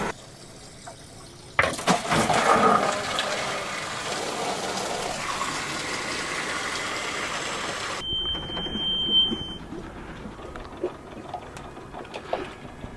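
Water gushes into a boat's tank from another boat moored alongside, a steady loud rushing fill that starts abruptly, runs for several seconds, then cuts off to quieter background sounds.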